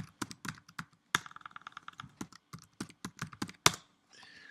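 Someone types a password on a computer keyboard in a quick, uneven run of sharp key clicks, with short pauses between clusters. The clicks are close and clear, with no voices.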